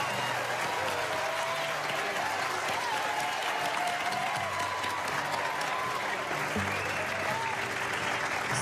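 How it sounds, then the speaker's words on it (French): Steady applause from an audience in a French romantic comedy, a broad unbroken wash of clapping that runs the whole length, with a faint sung melody and crowd murmur underneath. "Un tonnerre d'applaudissements pour Zayn"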